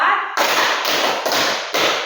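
A group of people clapping together in a counted rhythm at a group session, with several dense bursts of clapping following each other closely, close and loud with no talking.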